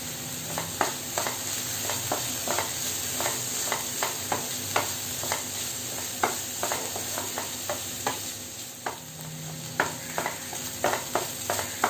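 Tomato masala for egg thoran sizzles steadily in a pan, with turmeric just added, while a spoon scrapes and stirs in repeated sharp clicks across the whole stretch, close and moderately loud with no voices.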